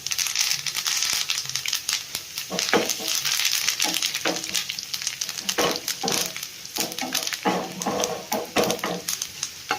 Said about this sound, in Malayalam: നമ്മൾ കടുവ് വറുത്ത് റെഡി ആയിട്ടുണ്ട്